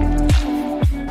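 Water pours into bread dough at a bakery, with two wet squelching plops over a loud steady mechanical hum, close and heavy.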